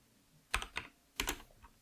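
A few quick keystrokes on a computer keyboard while code is being typed, sharp clicks in two small bursts, close and fairly quiet in a still room.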